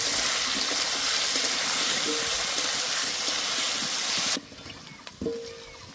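Potatoes fry in a pan with salt and turmeric, a dense, even sizzle that cuts off abruptly partway through, leaving quieter clinks and a short scrape of the pan.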